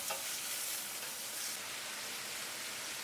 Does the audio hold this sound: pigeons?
no